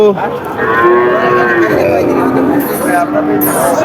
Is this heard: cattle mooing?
yes